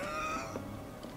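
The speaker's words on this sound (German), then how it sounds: "Das ist eine Katze." A cat in Final Fantasy VII Remake gives a single short meow, faint and brief, with no voices over it.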